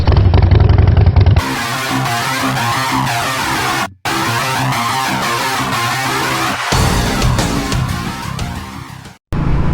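A 2021 Royal Enfield Meteor 350 motorcycle engine running in a loud, steady drone that shifts in pitch with a couple of brief cutouts, recorded close with strong wind-like roar.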